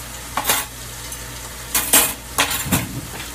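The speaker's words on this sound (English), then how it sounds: "Silverware is my least favorite thing to put away." Metal silverware and dishes clink and clatter in separate bursts as they are put away into a light blue dish rack by the kitchen sink, crisp and close against a steady low hum, with no voices.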